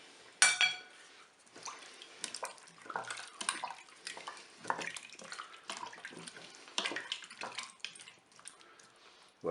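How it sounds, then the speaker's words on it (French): Mustard pork stirred in a Cookeo pot, with irregular close clinks and scrapes of a utensil against the pot and wet sloshing, louder at the start and in scattered bursts. "Et je mélange."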